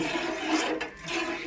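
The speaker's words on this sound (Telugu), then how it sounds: "వాటర్ పోసే ఫస్ట్" Water is poured into a pot of fish curry, giving a steady, close splashing gush for most of the moment. It dips briefly near the middle, then resumes.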